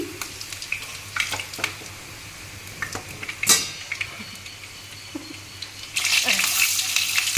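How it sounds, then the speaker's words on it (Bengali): Fried chital fish balls lifted out of hot oil, with crackling frying, sharp spoon and pan clinks, and a louder burst of sizzling near the end. "এই যে মিঠাগুলো ভাজা লাল লাল হয়ে গেছে এবারে তুলে নিচ্ছি"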